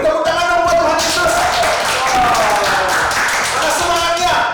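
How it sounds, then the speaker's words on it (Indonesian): Children at a church worship service clap in quick, lively bursts while voices chatter and call out over the clapping. "beri tepuk tangan dong buat Tuhan Yesus"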